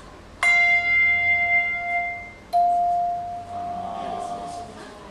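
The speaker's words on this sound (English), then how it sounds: "These are called chimes, and it's a softer sound than the bell." Hand chimes struck twice, each a clear sustained metallic tone that rings out and decays slowly, softer and mellower than a handbell, the second strike a few seconds after the first with a light wavering in the tail.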